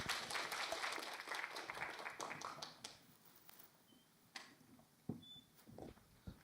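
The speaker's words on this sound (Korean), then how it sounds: "박수 부탁드립니다." Applause at an accelerator-based international symposium, greeting a battery engineering professor before his lecture; scattered clapping is fairly loud at first, then thins out into sparse claps and faint room noise.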